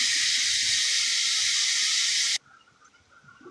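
Ginger, garlic and onion paste sizzles loudly in a hot pan with a steady hissing fry for over two seconds, then cuts off abruptly to a faint, quiet background.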